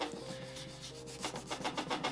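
Close, rhythmic rubbing and scraping of wet 800-grit sandpaper on leather shoes, short strokes repeating quickly and growing more pronounced toward the end.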